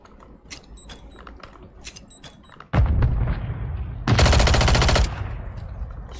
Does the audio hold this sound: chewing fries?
no